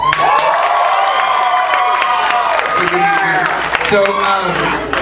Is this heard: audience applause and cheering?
yes